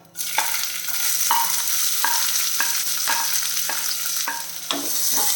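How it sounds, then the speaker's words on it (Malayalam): Oil sizzles steadily with a string of sharp pops and crackles at irregular intervals as mustard seeds splutter in the hot pan. "കടുക് പൊട്ടുന്നുണ്ട്"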